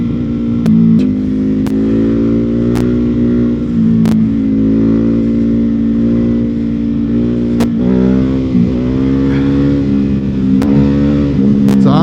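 Ducati Hypermotard 950 motorcycle being ridden, its loud engine droning close and steady with rising and falling revs as it accelerates and shifts, plus sharp clicks and wind buffeting throughout.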